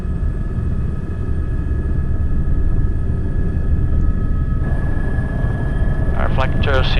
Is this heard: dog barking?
no